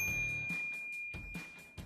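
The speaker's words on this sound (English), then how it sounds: "ring the bell to be notified about our latest videos" A bright bell ding for a subscription notification rings once, clear and high, with a sustained ringing tone that carries on under soft rhythmic clicks and pulses.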